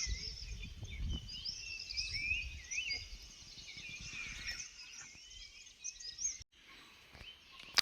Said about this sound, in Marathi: सगळीकडे तुम्हाला चिमण्यांचा आवाज ऐकायला दिसेल।